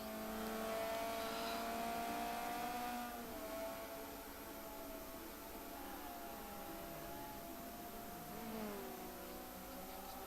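Renault Clio race cars lapping a circuit, engines rising and falling as they pass at a distance, faint and continuous with pitch sweeps.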